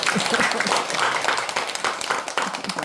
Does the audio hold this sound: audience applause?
yes